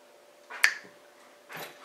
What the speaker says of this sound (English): when I click my fingers, it'll go to a different background